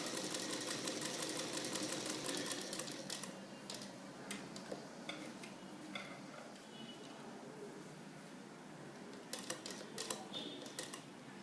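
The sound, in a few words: sewing machine stitching a continuous opening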